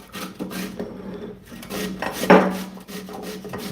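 Vegetables being grated by hand on a kitchen grater for Bulgarian tarator cold summer soup, giving repeated rasping strokes with one louder scrape near the middle.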